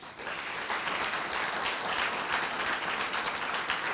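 Sustained audience applause welcoming keynote speaker Shannon Stratton at the Cultivating Craft 2016 opening, a dense, steady wash of clapping that holds evenly throughout with no talking over it.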